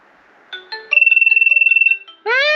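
A landline telephone rings with a rapid warbling electronic trill, loud and close, followed by a rising electronic tone at the end.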